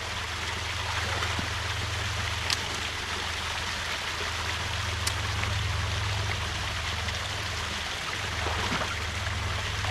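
Water rushing and trickling steadily through a breached beaver dam in a creek, a continuous broadband flow with low rumble, no speech over it.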